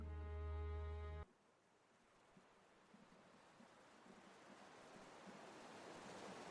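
Recorded ocean surf played as background ambience at a tabletop roleplaying session, a low continuous wash of waves that follows a short burst of loud music and runs faint and steady to the end.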